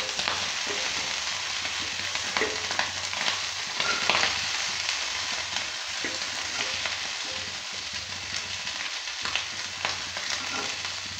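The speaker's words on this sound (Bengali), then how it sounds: "বাকিগুলো আমি একইভাবে ভেজে নিচ্ছি" Pieces for sorshe chingri fry in hot oil, a dense, steady sizzle with occasional scraping stirs, close and continuous throughout.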